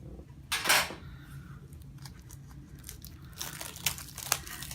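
Shrink wrap on a tarot card deck torn open with a fork: a sharp crinkling tear near the start, faint rustling, then a second cluster of crackly tearing, close up over a steady heater hum.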